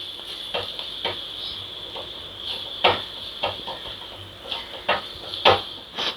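Tomatoes and green chillies stirred in a pan, with a utensil scraping and knocking in scattered strokes that land a little louder near the end, over a steady sizzling hiss.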